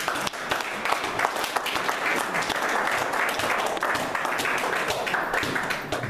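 A church congregation applauds steadily and loudly throughout, a dense wash of many hands clapping together without pause.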